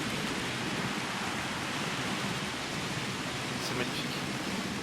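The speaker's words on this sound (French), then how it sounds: "Regardez l'effet de la pluie sur le sol." Steady rainfall on the ground in the video game Jurassic World Evolution, a constant even hiss of drops that fills the whole stretch at moderate loudness.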